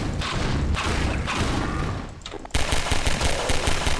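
Rapid gunfire bursts in the video game Garry's Mod, with repeated loud cracks and thumps, a short lull and then a dense, continuous volley.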